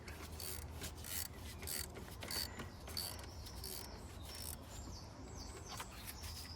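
A bolt being screwed into the alternator of a BMW E46: continuous faint metallic scraping and rasping with small squeaks and clicks, close by and quiet, no talking.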